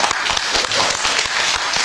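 A short burst of audience applause breaks out at a live storytelling performance. The clapping is loud and dense, with individual claps standing out, and it lasts under two seconds.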